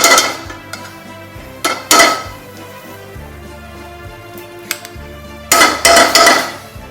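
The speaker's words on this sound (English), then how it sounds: "While that's getting hot, we can cut the garlic." Garlic chopped with a knife on a board while cooking steak, a few sharp, loud knocks and clatters in separate bursts, with quieter gaps and a low background hum between them.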